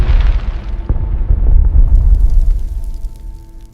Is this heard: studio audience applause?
no